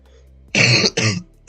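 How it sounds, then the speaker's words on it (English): Two harsh coughs in quick succession, loud and close, followed by the start of a third. "I'm still like coughing up a storm."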